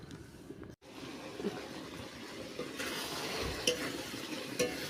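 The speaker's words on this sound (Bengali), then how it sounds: "দেখতে পাচ্ছ এখানে হচ্ছে খাসি মাংস হচ্ছে" Goat meat (mutton) cooks in a pot, giving a steady close sizzling and bubbling with occasional stirring scrapes and clinks, and no talking.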